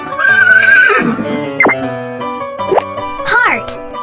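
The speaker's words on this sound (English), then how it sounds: "horse" A horse whinnies loudly over light background music in a children's alphabet lesson, followed by a few short plopping effects.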